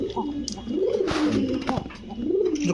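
A yellow Bombay pigeon coos nearby in repeated rolling, throaty calls while people talk over it.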